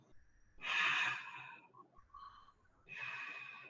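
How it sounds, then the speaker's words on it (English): Two slow, breathy exhalations through an open mouth with a 'ha' sound during a meditation breathing exercise, close and airy, separated by a short quieter pause. "And you're exhaling with a ha sound."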